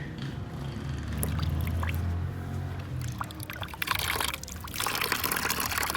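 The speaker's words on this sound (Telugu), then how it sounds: "ఎక్కడైతే కుట్టిందని అనిపించిందో అక్కడ సరుపు పెట్టి నీటి కడిగేసుకుంటే" Water runs and trickles over skin, washing off surf detergent rubbed on a bee sting during a cycling trip in Tanzania, a steady close pouring and dribbling with louder splashy bursts toward the end.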